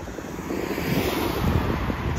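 A steady, loud drone of an airplane passing overhead in the Alps, a continuous engine roar with no voices.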